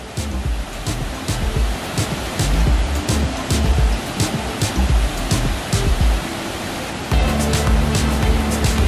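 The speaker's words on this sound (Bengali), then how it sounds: "এবারে চলে আসলাম বড়হিল ঝর্ণায়।" Borhill waterfall in the Khasi hills of Meghalaya near the India–Bangladesh border, a loud continuous roar of rushing water, close and unbroken, with no voices.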